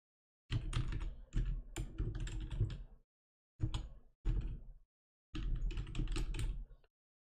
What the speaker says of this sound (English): open up Firefox, type in the address.